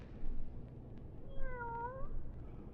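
A cat meows in an old-time radio drama: one drawn-out, clear meow that rises and falls, fairly close, over a faint background hiss with no speech.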